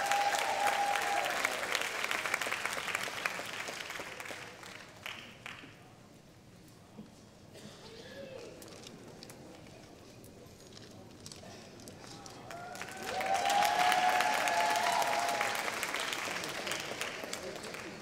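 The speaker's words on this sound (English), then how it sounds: "Let's give her a round of applause." Audience applause fills a pageant hall, a steady wash of clapping from a crowd that dips in the middle and swells again near the end, with cheers rising over it.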